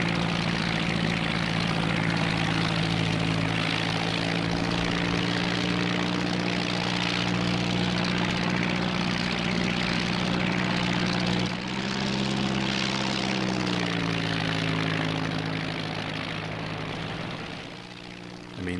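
A rear-mounted rotary engine of an Airco DH.2 fighter drones in the IL-2 1946 flight game as the biplane patrols over the Somme. The loud, steady propeller hum holds throughout, shifts pitch briefly midway, and fades slightly near the end.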